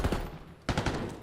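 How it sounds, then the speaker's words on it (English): Gunfire rattles during a competitive Call of Duty match, two short clusters of rapid shots split by a brief lull, fairly quiet and with no commentary over them. "Opening exchange of gunfire, not a whole lot of damage dealt."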